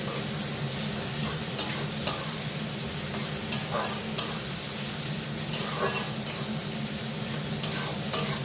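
Ginger garlic paste fries in a pan for a chicken and potato curry, giving a soft, steady sizzle with light scraping and ticking clicks from stirring, faint and close, with no talk.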